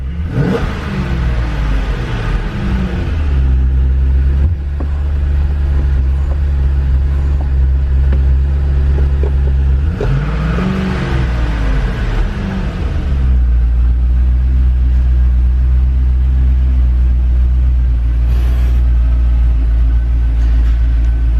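A 2012 Chevrolet Corvette Grand Sport, a repairable salvage car, idles with a deep steady rumble, and the engine is revved twice, rising and falling each time, close and loud, with no one talking.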